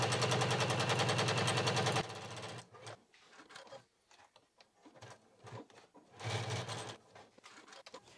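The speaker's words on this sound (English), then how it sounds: "And now here we do want to backstitch at the beginning and end." A sewing machine stitches a pouch seam at a 2 mm stitch length, with a fast steady whir for two seconds, then short stop-start bursts while backstitching.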